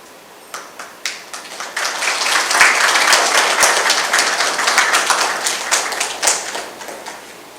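Audience applause at a night Ramayan Yagya gathering, beginning with a few scattered claps that swell into a dense, steady round of clapping from a crowd and then ease slightly toward the end.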